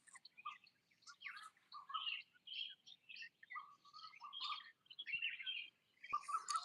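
Birds chirp and tweet in quick, overlapping bursts on an outdoor nature walk among flowering plants, with a steady chorus of near and far calls and no talking.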